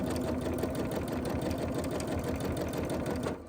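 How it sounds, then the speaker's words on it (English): A sewing machine stitching in place to anchor thread during free-motion thread painting on a pumpkin design, a fast steady mechanical whir running loud and close for about three seconds before cutting off. "take a couple stitches in place to anchor it"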